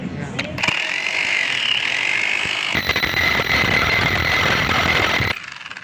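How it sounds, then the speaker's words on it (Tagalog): A Bosch jackhammer runs in a continuous loud mechanical rattle with a steady high whine, starting in short bursts then holding for several seconds before cutting off abruptly. "testing na natin itong jackhammer"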